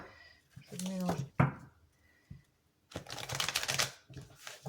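Oracle cards being shuffled in short rustling bursts, loud and close, broken up by stretches of speech from someone speaking French.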